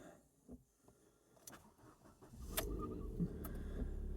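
A few clicks and clunks, then a car engine cranks and catches, settling into a steady low rumble.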